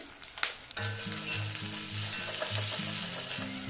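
Ground spices with chilli, turmeric and cumin powder sizzle loudly in a pan, starting abruptly after a brief quiet moment and then frying steadily with crackles and a soft low hum throughout.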